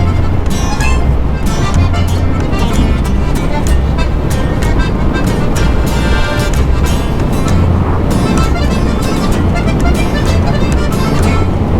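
A motorcycle ridden at speed on a highway through Nueva Ecija gives a loud, constant roar of wind buffeting and engine drone with no let-up, and there are intermittent clicks and rattles.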